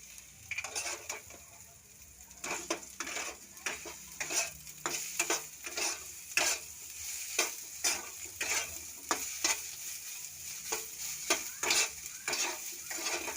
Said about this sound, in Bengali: সামান্য হলুদ দেবো সয়াবিনটাকে ভালো করে ভেজে নেওয়া হবে